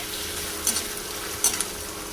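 Tomato and browned onion frying in a pan for kochu shak with coconut, a steady close sizzle broken by two brief stirring scrapes, no voices.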